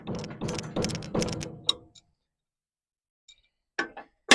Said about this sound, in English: as this nut tightens up against this washer here